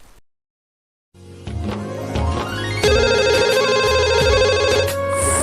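A mobile phone ringtone starts after a moment of silence, playing a loud, close melodic ring that repeats steadily to the end.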